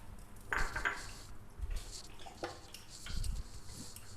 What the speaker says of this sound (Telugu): బాండీ పెట్టేస్తున్నా. మనకి బాండీ కొంచెం ఆయిల్ వేస్తున్నా.